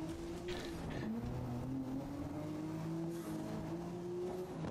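Nissan Skyline GT-R engine in the racing game Grid, a steady droning drone that climbs in pitch as the car accelerates, with brief tire squeal and a continuous loud race-car roar throughout.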